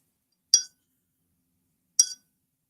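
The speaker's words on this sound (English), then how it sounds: "You always want to kind of rinse off your brush" A paintbrush taps against a glass water jar while being rinsed during watercolor painting, two short bright clinks about a second and a half apart in near silence.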